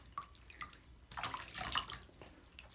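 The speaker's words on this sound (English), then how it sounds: "Getting a little shower." Shower water splashes and drips over a dog during its first bath, a faint irregular patter that swells briefly into a fuller gush, with no talking.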